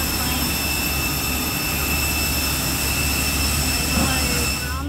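Inside an airliner cabin, a jet engine roars steadily and loudly, a constant broadband rush with high whining tones held throughout.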